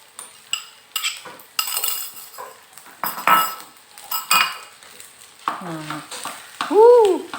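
Metal utensils scrape and clink against a pan as Solaria-style fried rice is stir-fried, with a soft sizzle underneath and irregular bursts of tossing.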